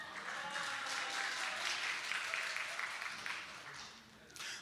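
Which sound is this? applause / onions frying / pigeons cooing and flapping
applause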